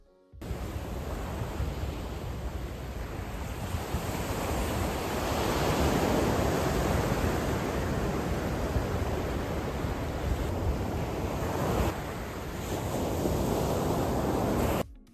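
Steady ocean surf rolls onto a beach in Lomé, Togo, a continuous broadband wash of breaking waves with swells rising and falling, close and fairly loud, with no voices.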